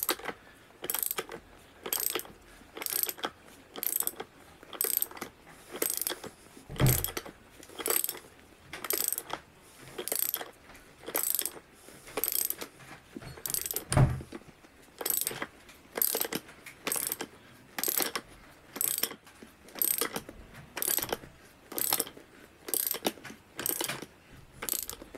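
A ratchet and socket tighten the limbs of a Mantis crossbow from low to high power, giving a long series of sharp, evenly spaced clicking bursts, close and clear, with a few louder knocks along the way.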